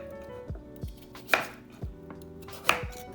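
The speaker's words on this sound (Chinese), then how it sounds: "胡萝卜去皮切成滚刀块" A kitchen knife chops peeled carrots into chunks on a cutting board, about six firm, evenly spaced knocks, close and clear with no talking.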